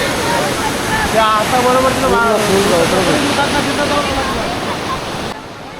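The Panchanadi river in flood rushes under a bridge during heavy Konkan rain, a loud, constant roar of water close by. Someone speaks briefly over it.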